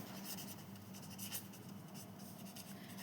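Hand writing on paper while working through a Class 9 maths problem on arithmetic progressions, a steady soft scratching of the pen running throughout at close range, with no voice.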